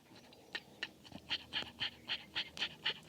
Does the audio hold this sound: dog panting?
yes